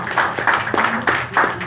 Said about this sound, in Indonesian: Tepuk tangan untuk SOP